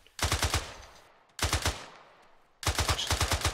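Three quick bursts of automatic gunfire crack loudly at close range in an Arma 3 military video game, each a tight string of shots separated by about a second of fading echo.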